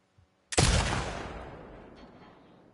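A single loud rifle shot rings out in The Last of Us, fired at a red sign, its sharp crack followed by a long, slowly fading echo.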